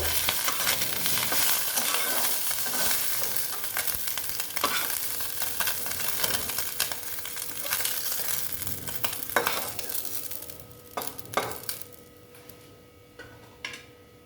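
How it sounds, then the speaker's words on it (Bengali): Small mourola fish fry in a pan with a loud, steady sizzle that fades near the end, punctuated by scraping and clinking as pieces are lifted out. "মাছগুলো সব ভাজা হয়ে গেছে এবার আমি সব তুলে নিচ্ছি"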